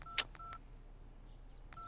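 Telephone keypad dialing in a Hindi comedy film scene: a quick cluster of clear electronic beeps, a short pause, then another tone near the end, all fairly quiet and with no talking.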